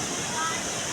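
Biyaya ng Bibit falls gives off a constant broadband rush of water, loud and close, filling the short stretch without a break, while voices talk faintly over it.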